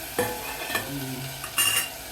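Whole mung beans tipped into a hot pan with green chilli paste, then stirred with a spoon, making a few scraping clatters over a low sizzle, with no talking.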